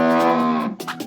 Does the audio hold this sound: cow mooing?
yes